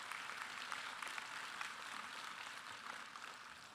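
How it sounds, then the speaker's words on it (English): Graduates at a law school recognition program applaud themselves, a faint, steady wash of many hands clapping heard from a distance with no single claps standing out. "Please, everyone, give yourselves a round of applause."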